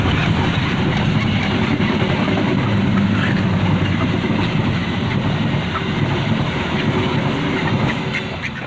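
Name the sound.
train passing by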